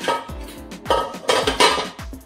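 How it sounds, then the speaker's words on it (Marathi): A metal stand and a cake tin for a chocolate sponge cake are set inside a preheated pressure cooker: several sharp, close metallic clanks and scrapes in quick, uneven succession. "एक स्टँड ठेवतो आणि हा आपला डब्बा याच्यात ठेवतो"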